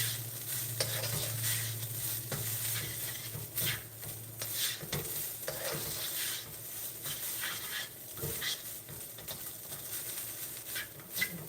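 Rice being stir-fried in a hot pan for an eggroll-in-a-bowl meal, with a constant loud sizzle broken by repeated scraping and tossing strokes of a utensil.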